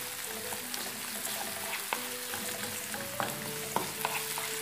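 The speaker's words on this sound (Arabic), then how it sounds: "نبقى نحرك دائما مع التحريك" Mini quiche filling stirred in a hot pan, a steady close sizzle broken by regular scraping and light clinks of the spoon against the pan.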